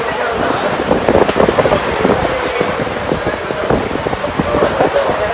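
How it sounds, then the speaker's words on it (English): Heavy rain pours outside in Lonavala, a loud, dense, steady roar with gusty surges close by, with no voices. "it's like pouring outside"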